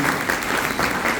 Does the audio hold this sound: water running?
no